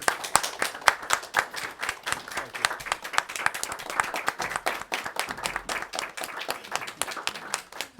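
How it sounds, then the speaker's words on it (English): Steady applause at a town council meeting, many pairs of hands clapping in a dense, even patter that holds for several seconds at moderate volume with no voices over it. "Y'all join me with a round of applause for the chief."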